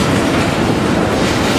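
Freight train cars being switched in a rail yard give a loud, steady rolling rumble with dense clatter of wheels over rail joints, close by and continuous, no voices.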